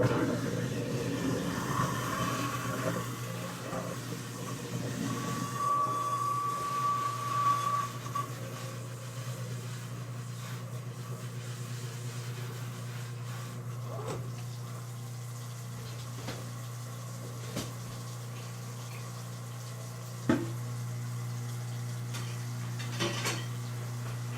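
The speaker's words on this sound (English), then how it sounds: "Sorry, my garbage disposal, like, kind of sucks" A kitchen sink garbage disposal runs with a steady low mechanical hum and scattered clinks and rattles, and one sharper knock partway through.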